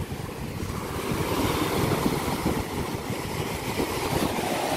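Ocean surf at Miami Beach, Florida rumbles and washes steadily, with heavy wind buffeting the microphone throughout.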